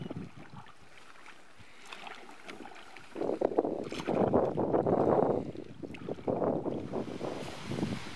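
Cold autumn headwind gusts across the Throat River on a long-distance canoe expedition, a soft rushing wash that swells into loud, rumbling microphone buffeting about halfway through and stays strong to the end.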